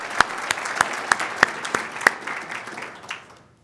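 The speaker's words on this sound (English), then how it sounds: "Please give them a round of applause." An audience at an annual meeting applauds, with sharp individual claps standing out over a steady patter that fades out after about three seconds.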